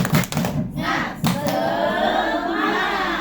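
Seated audience of teachers at an Indonesian education event doing a rhythmic group clap, sharp synchronized bursts of hand claps with shouts, then a sustained crowd din and voices.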